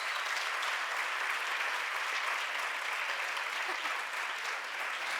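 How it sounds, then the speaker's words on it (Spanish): An audience at a union school session on political communication claps for a comrade, a steady, even applause heard at a distance and fairly faint, with no voices over it. "Un aplauso para él."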